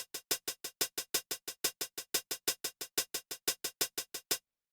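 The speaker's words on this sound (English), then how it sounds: "it's just like a pretty simple kind of like drum machine type hi-hat, like a very 80s style sound." Synthwave-style 80s drum machine hi-hat ticking in a fast, steady run of crisp, bright hits, about five or six per second, loud and alone with no talk, cutting off abruptly.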